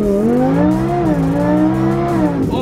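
A Lamborghini launches hard under launch control, its engine pitch sweeping up and shifting in a loud, continuous roar close by with a squeal of tires, and no talking.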